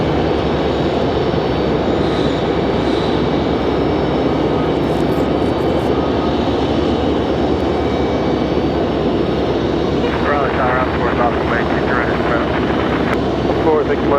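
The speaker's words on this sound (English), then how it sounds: "Air France arriving late this afternoon, really late in fact, almost 7 o'clock for this one." An Air France airliner arriving at Raleigh-Durham airport, its loud, steady jet engine roar dominating throughout, with a voice speaking briefly over it near the end.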